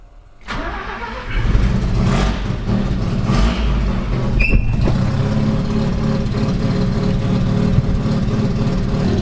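A Mazda rotary pickup engine cranks and fires right up, then settles into a loud, steady, close idle with a rough rumble and a few brief metallic clanks partway through.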